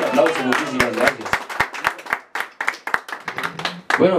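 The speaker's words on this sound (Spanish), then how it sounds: "bonito aplauso, muchísimas gracias" Hand clapping at a birthday mariachi performance, a burst of sharp, fairly close claps in uneven rhythm, with people talking and calling out over it.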